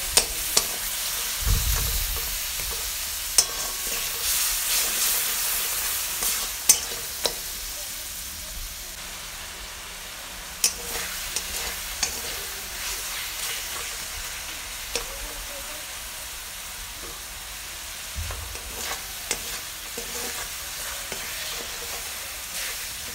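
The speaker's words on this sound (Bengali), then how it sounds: "ভালো করে এবার এটাকে কষিয়ে নেব।" Ginger, onion and garlic paste for egg curry fries in a pan with a soft, continuous sizzle, while a spoon stirs and taps the pan in scattered knocks and a couple of low thuds, no talking.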